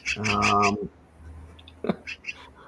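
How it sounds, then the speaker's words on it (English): A bird calling from a roof, a few bright chirping notes heard at a distance, following a close, loud burst of voice-like sound. "Do we know what type of bird that is? It sounds cool."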